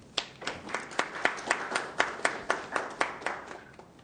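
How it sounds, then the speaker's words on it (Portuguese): Applause for a senator at a Brazilian Senate inquiry hearing, a small group clapping in a clear, evenly spaced rhythm of about a dozen distinct claps, fairly close and moderately loud. "Uma salva de palmas para ela."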